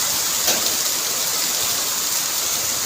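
Heavy rain pours down in a dense, continuous roar of drops, loud and close throughout with no pauses.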